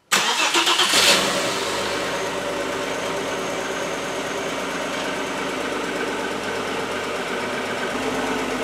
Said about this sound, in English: And here we are, engine is started.